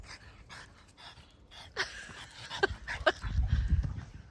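A dog pants and snuffles close by, with quick rhythmic breaths, a few sharp little yips and some rustling toward the end, in Masuria, Poland.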